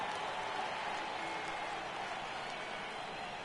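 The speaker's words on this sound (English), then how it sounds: "Crowd gets up for the 3-2." Baseball stadium crowd in MLB The Show 18 cheering on a full 3-2 count, a steady wash of distant applause and crowd noise with a faint announcer voice underneath.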